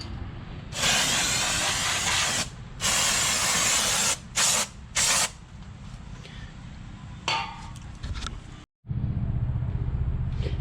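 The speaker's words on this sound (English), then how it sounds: "And then I'm going to hit it with some brake clean." Aerosol brake cleaner hisses in several loud bursts onto a car's brake drum on a 1974 Buick Regal, long sprays followed by short ones with quieter pauses between.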